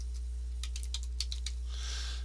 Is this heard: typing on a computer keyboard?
yes